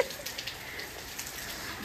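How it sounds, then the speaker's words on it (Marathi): Steady, faint rain falls outdoors during a monsoon shower, a soft continuous patter with a few slightly louder drops, heard alone without talk. "पाऊस पडतोय"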